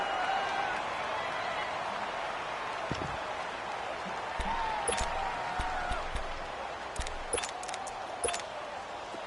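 Crowd roar in an American football video game on PS4, building before a big third down: a steady, dense wash of stadium noise runs the whole stretch with small swells, and voices murmur underneath.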